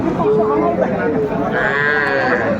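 Calves, young bulls and heifers, moo in drawn-out, wavering calls, close by, over a noisy cattle market with people talking in the background.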